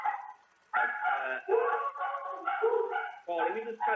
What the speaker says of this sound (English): there's my dog barking at something outside